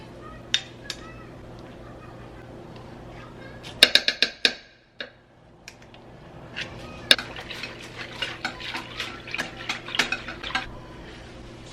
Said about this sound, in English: So I whisk that together